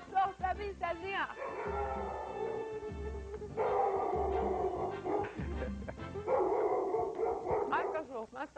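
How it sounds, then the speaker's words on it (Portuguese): Several short dog-bark sound effects and yips ring out in a cooking show, with a repeating low thumping beat and a voice talking alongside. "Põe cachorro pra mim"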